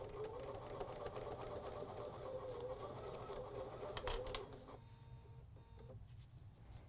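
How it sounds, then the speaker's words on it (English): A sewing machine hums in a fast, even stitching run along a quarter-inch fabric seam, then stops with a few clicks near the end, fairly quiet and close. "I'm going to start sewing right off the edge onto the fabric with a quarter inch seam."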